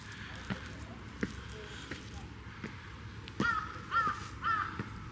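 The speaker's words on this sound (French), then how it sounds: "Ce chant des corbeaux?" Crows cawing in a quiet neighborhood of murals in Yeosu, Korea, several separate caws spaced out at first, then three louder calls in quick succession, with faint voices in the background.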